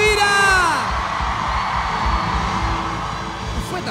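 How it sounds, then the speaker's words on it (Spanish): A loud festival crowd at Viña del Mar roars and cheers, a sustained wall of yelling voices with a rising whoop near the start. "Fue tan fuerte el grito."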